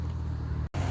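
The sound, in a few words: Austin Allegro Equipe car engine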